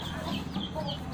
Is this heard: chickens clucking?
yes